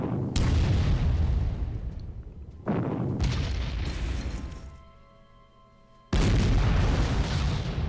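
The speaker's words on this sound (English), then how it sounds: "The defensive artillery fire doesn't help them too much." Defensive artillery fire in the strategy video game Panzer Corps: three heavy booming blasts with long rumbling decays, loud and close, separated by brief fading tails.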